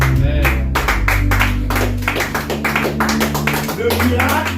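A church congregation claps together in a steady, fast rhythm, hands close and loud over a sustained low musical drone.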